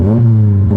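A 2023 Subaru Crosstrek base with a six-speed manual rumbles through a custom driver's side exit muffler: a steady, loud, close low-pitched engine drone with a harmonic hum, held throughout.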